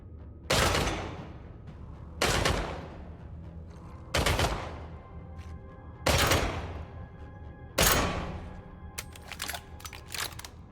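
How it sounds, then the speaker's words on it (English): Single heavy gunshots ring out in the video game Killing Floor 3, five sharp blasts spaced roughly two seconds apart, each with a short decaying tail over a quiet background. "When you shoot the gun, there's a recoil that goes off with the gun, and then you hear the gun bullets"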